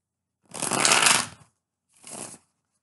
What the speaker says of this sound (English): All right, one more shuffle, guys.